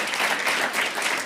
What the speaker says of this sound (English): Please give them a nice round of applause to warm them up